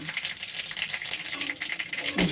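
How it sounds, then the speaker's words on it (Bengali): Mustard seeds spluttering in hot oil in a home kitchen pan, a dense, continuous crackle of quick pops and sizzle heard up close for the whole stretch. "এই দেখো তেলে সর্ষে দিয়ে দিচ্ছি"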